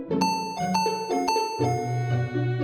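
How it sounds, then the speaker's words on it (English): A melodic electronic doorbell chime plays a short tune of several tones, loud and close, with no voices. "a loud doorbell sound rang throughout my house"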